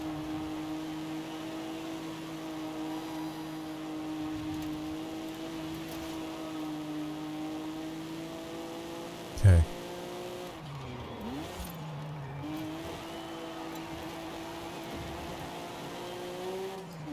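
A race car engine in Forza Horizon 5 drones steadily at a sustained pitch, with a sharp impact thump partway through followed by a brief dip and rise in revs as the car recovers and keeps driving.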